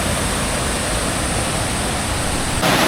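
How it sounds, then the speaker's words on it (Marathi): A river swollen and muddy after rain rushes past in a steady, loud, broadband roar of water, with no voices over it. "नदी बघा मित्रांनो, खूपच जास्ती जरा पाणी वाढलं आहे"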